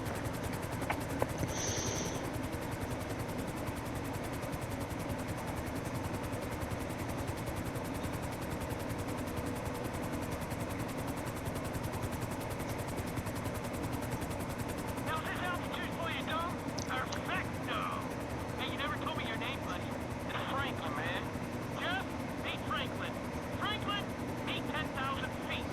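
A helicopter in the video game GTA 5 gives a steady, continuous rotor and engine drone for the whole stretch, with busier, crackling sounds layered on top in the second half.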